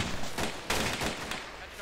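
Rapid gunfire in a multiplayer military shooter game, several quick cracking shots in a short burst over background battle noise, close and moderately loud.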